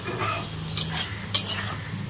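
Mustard greens stir-fried in a pan, sizzling steadily while a spatula scrapes and stirs, with two sharper clinks of utensil against the pan, close and fairly quiet.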